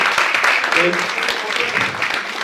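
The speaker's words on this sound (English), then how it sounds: "Give them a big round of applause." Audience applause at a community domestic violence forum, a short burst of clapping with a voice speaking over it.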